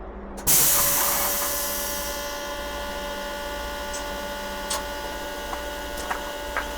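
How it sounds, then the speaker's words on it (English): Electric fuel pump on a Cummins diesel 450 RV priming after a fuel/water filter separator change: a sudden onset at half a second, then a steady loud whining hum with hiss that slowly eases, with a few faint clicks near the end. "Boy, that fuel pump's loud."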